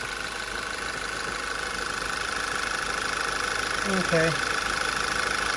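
A VW/Audi 2.0 TSI engine idles rough just after a cylinder head install, a steady close engine drone running throughout, with a brief voice near the end.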